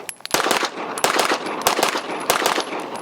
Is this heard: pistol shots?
yes